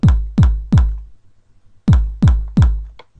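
Deep punchy kick drum hits in a repeating pattern from FL Studio software: three evenly spaced thumps, a pause, then three more, loud and dry.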